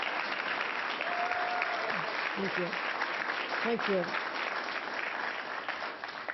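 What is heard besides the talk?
audience applause at press announcement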